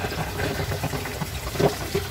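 Quick release of a pressure cooker holding galunggong Spanish-style sardines, a steady continuous hissing rush of venting at moderate level with no voices.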